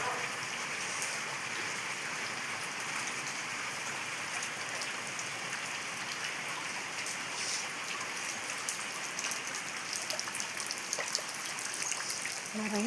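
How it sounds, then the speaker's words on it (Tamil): Heavy rain pours steadily and close by in rural Tamil Nadu, a dense continuous hiss with no distinct thunder crack standing out. "மின்னல் இடி எல்லாம் மொத்தமாக பெய்யுது."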